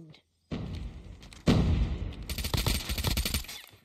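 Gunfire in the game Call of Duty Mobile comes as heavy thumping shots and a loud burst, then rapid crackling fire, close and busy, with talk mixed in.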